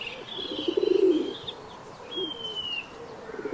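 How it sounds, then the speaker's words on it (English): Messenger pigeons give a close burst of throaty cooing, then quieter coos with a few thin, high whistling chirps, with no talk. "Personal messenger pigeons, carried around in portable bird boxes, help us maintain connections with others."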